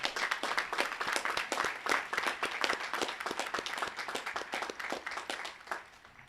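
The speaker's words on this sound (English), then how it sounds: "Let's applaud him for his" At a Class of 2023 commencement ceremony, a large audience claps steadily for several seconds, dense rhythmic applause that thins slightly toward the end.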